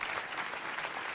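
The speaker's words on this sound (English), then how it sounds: "Can you give them another big round of applause, please?" A brief burst of steady audience applause at a city council meeting, even and fairly quiet, with no voices over it.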